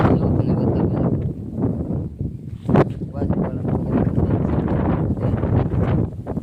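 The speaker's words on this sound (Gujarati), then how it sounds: "વાડીએ પવન છે ખતરનાક, બહુ પવન છે" Strong gusty wind roars and buffets the microphone outdoors on a farm, a steady low rumble with a sharp burst partway through.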